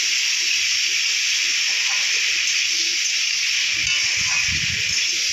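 Prawns sizzle in hot oil, a loud, steady frying hiss that fills the whole stretch, with faint clinks and stirring underneath.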